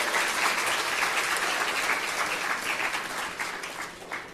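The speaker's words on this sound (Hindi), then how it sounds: "एक बार उनके पुण्य की अनुमोदना में जोरदार तालियां बजा दें।" A crowd at a Jain religious gathering breaks into loud, sustained applause, dense and even throughout, with a few louder claps near the close.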